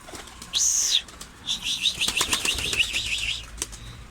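Pigeons take off in bursts of wing flapping, a sharp clatter of beats near at hand, with a few bird calls between the flutters.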